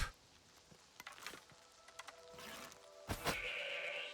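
Sheep bleating in the video game Oblivion Remastered, a few brief calls amid game ambience and background noise, moderately loud and close.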